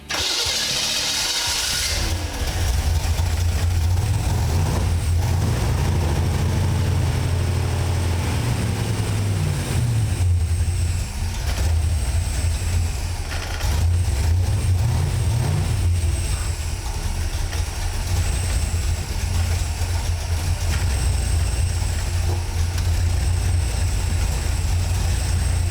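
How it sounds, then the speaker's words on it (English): An EFI car engine cranks briefly, fires up for the first time and settles into a steady, loud idle with a low rumble that continues throughout, no talking. "We should get an engine that fires, starts up, and runs."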